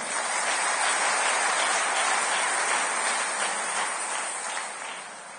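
A church congregation applauding together, a dense, steady wash of many hands clapping that holds loudly and then begins to taper off near the end.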